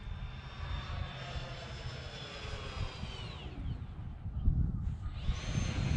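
A Freewing F-14 twin 80mm EDF RC model jet with a 5280RC afterburner roars past in flight, a steady whining rush that drops in pitch partway through and then climbs again, with no talking.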